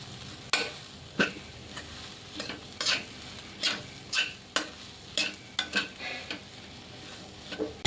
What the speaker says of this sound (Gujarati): તો આ બધી વસ્તુને આપણે બરાબર મિક્સ કરી લઈશું।